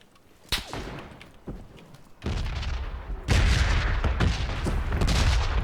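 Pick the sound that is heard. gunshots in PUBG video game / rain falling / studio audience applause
gunshots in PUBG video game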